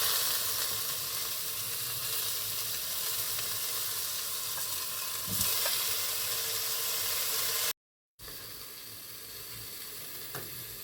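Potatoes searing in a pot as part of a yogurt kebab dish, giving a steady, close crackling sizzle that holds throughout, broken by a brief silent gap before the frying noise resumes.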